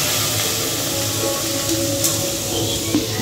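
Water poured into a hot pot of fried moong dal, giving a steady hiss and sizzle that stays even and close throughout, with faint clinks near the end.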